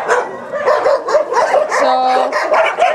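Two dogs barking repeatedly in quick overlapping bursts, loud and close, mixed with yips and a brief whine.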